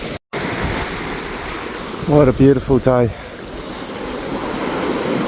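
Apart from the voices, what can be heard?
mild ocean waves on the beach near Broome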